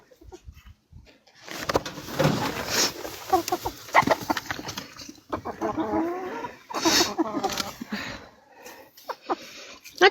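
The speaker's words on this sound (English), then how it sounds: "This damn rooster." A rooster's crows and squawks ring out close by amid scuffling and commotion, with a voice speaking over parts of it.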